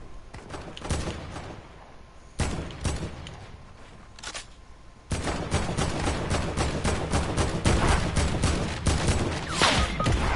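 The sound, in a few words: sniper gunfire in a video game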